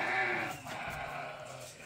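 Sheep bleat in a farm pen, a couple of close, moderately loud calls with quieter barnyard noise between them.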